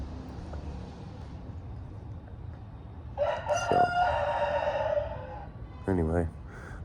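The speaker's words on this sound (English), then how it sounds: "the rooster says it's time to wake up" A rooster crows once at moderate distance, a long strained call over steady outdoor background noise. It ends with a short burst of clucking, and a single spoken word is heard near the start.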